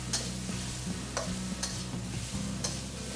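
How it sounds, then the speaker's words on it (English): Shredded potatoes stir-fry in a wok with a steady close sizzle, broken by several quick scraping strokes of a spatula. "And again, just keep stirring."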